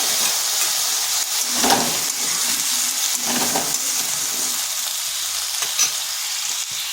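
Gathi kochu (taro) frying in a pan with salt, a steady close sizzle broken by two or three louder stirring scrapes, then fainter clicks toward the end.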